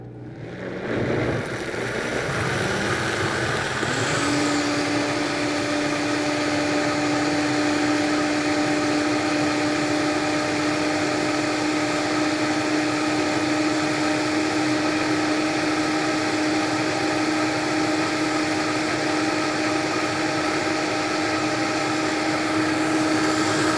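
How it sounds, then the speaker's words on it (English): A Vitamix blender blends a strawberry oat smoothie, starting with a brief rising whir, then settling into a loud, constant high-speed roar with a steady motor whine that carries on to the end. "And we're going to go ahead and blend this."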